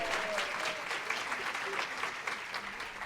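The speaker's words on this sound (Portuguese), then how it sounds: "Palmas, faz barulho para ela aí" A live audience at a talk applauds to welcome a speaker, a steady, dense wash of clapping from many hands filling the room throughout.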